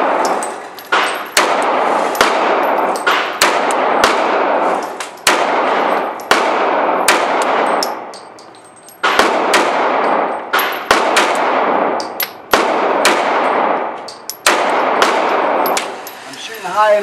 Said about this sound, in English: Let's go and put three more mags downrange.